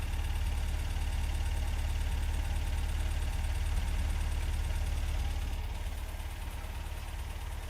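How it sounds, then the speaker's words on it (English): A 1971 MG MGB with a single polished exhaust idles steadily, a continuous low rumble that holds even and close for several seconds, easing slightly softer near the end, with no voices. "Let's have a listen at the idle."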